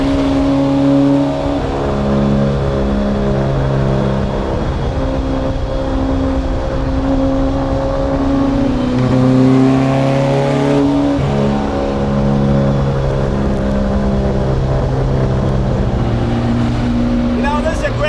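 A 1957 Porsche 356A Outlaw driven swiftly along a curving two-lane road, its engine droning loud and close with rising and falling tones through gear changes, continuous throughout.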